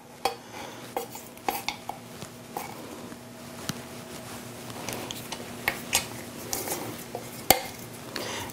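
Melted unsweetened chocolate is stirred into cookie dough in a bowl, with scattered light clinks and scrapes of utensil against the bowl, irregular and close, in an otherwise quiet kitchen.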